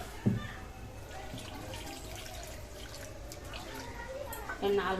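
Warm water poured into a simmering pot of desi chicken kosha curry during home cooking, a steady liquid trickle at moderate level with a brief utensil clink near the end and voices around it.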